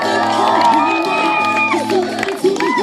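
A crowd at a jump bike stunt show at Stratford upon Avon Racecourse cheers, whoops and shouts steadily, with loud layered voices and high whistling whoops rising and falling throughout.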